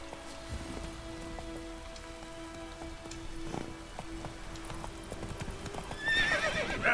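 A horse's hooves clip-clop steadily in a Witcher 3 game scene, joined by a soft patter of rain and a whinny, with music and a rising swell near the end.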